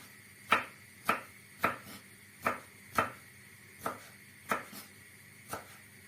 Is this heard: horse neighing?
no